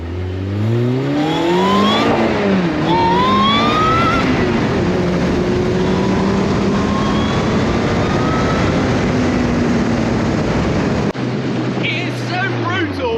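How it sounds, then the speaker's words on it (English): A Lotus Elise sports car engine revs hard and accelerates, loud and close, its pitch climbing in repeated sweeps before cutting off abruptly near the end. "I couldn't get the sound while the car was going"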